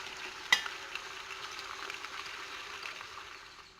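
Sliced carrots dropped into a pan of frying chicken for Algerian chicken with olives, a sharp clatter at the start followed by a soft, steady sizzle heard close up.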